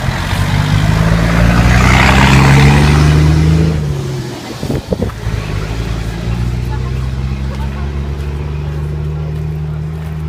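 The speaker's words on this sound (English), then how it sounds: "Oh, here's a massive truck. About to kill us." A massive truck rumbles past on a road, a loud low engine roar swelling over the first few seconds and then easing away, with steady traffic noise continuing and a voice heard briefly.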